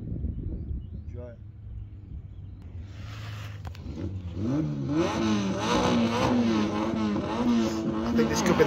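A race car at the Coronet Peak hillclimb launches and accelerates hard, its engine note climbing through rising gear sweeps and growing louder after a quieter idle, with talk heard beneath it.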